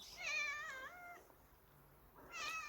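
A cat meows for food in Namsa Yedam Village, Korea: a wavering drawn-out meow, a pause, then a second meow starting, close and clear with no talk.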